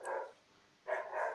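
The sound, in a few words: dog barking in the background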